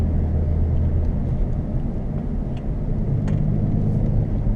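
A Mercedes-Benz E350 cabriolet with a 3.5-liter V6 cruises along, a low steady engine drone and road rumble heard from inside the car, even and moderately loud with no talk.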